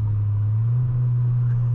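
A Chevrolet Astra 16v engine drones steadily from inside the car, a loud, even low hum with no clear rise in revs.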